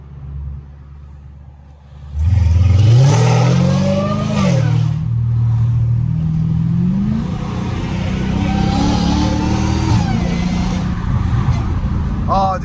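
A car engine revs up hard as it accelerates through traffic, with rising and falling pitch through gear shifts and a steady road rumble underneath; voices talk over the engine.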